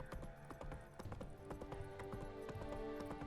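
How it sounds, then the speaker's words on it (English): Horse hooves clopping in a quick, uneven rhythm in the fantasy video game The Witcher 3: Wild Hunt, fairly quiet and close, with busy game background sound and no voices. "Who's a good horse?"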